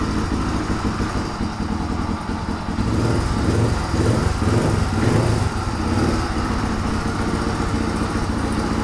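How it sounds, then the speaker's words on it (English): A dirt bike engine idles unevenly after a carburetor repair, a steady buzzing putter with a brief swell in revs midway before settling back, close by with no talking. "Let's see if I can get a steady idle out of it."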